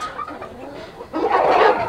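A Clements Grey hen clucking nearby, soft low notes at first, then a louder, denser stretch of clucking and rustle.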